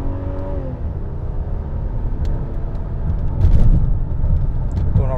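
A 2004 Lexus GS300 with about 150,000 miles accelerates while driving, its engine giving a steady, loud low drone from inside the cabin that swells slightly as power builds, with faint road noise and no talking.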